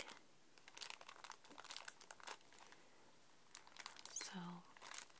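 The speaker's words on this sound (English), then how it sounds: "It's still in the crinkly plastic." Crinkly plastic wrapping on a magazine is handled in soft, close ASMR-style crackles, with irregular bursts of crinkling and brief pauses between them. A quiet voice comes in near the end.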